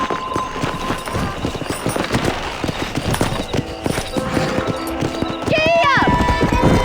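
Galloping horse hooves in the video game Red Dead Redemption, a fast steady clip-clop run heard up close with faint voices underneath, ending in a horse's whinny.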